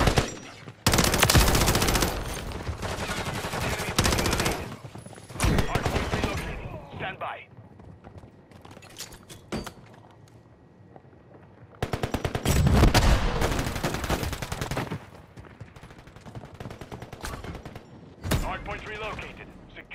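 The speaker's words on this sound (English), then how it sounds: "Hostiles deployed a remote turret." Gunfire from a remote turret in a Call of Duty multiplayer Hardpoint match. Loud bursts and sustained rattling volleys come in waves with quieter gaps between them, and a voice speaks intermittently over the action.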